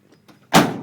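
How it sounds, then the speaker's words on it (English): A 1984 Dodge D250 pickup truck door swings shut with one solid, close thud after a few faint handling sounds. "this door shuts like brand new"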